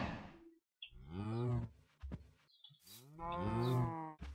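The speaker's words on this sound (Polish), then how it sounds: "Jest krowa." A cow in Minecraft lets out two drawn-out moos, loud and close, separated by a short pause with a few faint clicks between them.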